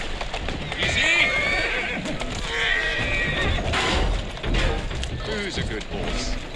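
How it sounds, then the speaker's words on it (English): A horse in the video game Assassin's Creed Syndicate neighs amid clattering hooves and rattling carriage mechanisms, loud and continuous for several seconds, with a voice speaking over it. "Who's a good horse?"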